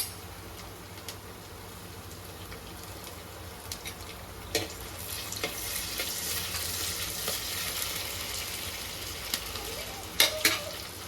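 Green chillies frying in oil in a pan while being stirred, a continuous sizzle with occasional sharp utensil clicks against the pan, close and without speech.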